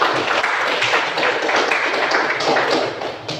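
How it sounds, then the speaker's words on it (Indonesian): An audience claps steadily at an event, a dense and fairly loud patter of many hands that holds for a few seconds before tapering slightly. "Ya, tepuk tangannya."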